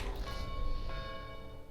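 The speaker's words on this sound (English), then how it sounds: "I don't like the fucking bell on the main building, I gotta say that." The town center bell on the main building in Age of Empires 4, a faint, resonant toll with sustained ringing overtones that fade slowly beneath a low, steady game backdrop.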